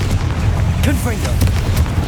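A blasting curse going off in the video game Hogwarts Legacy: a thudding explosion with rumbling low end, heard among game effects and a voice calling out.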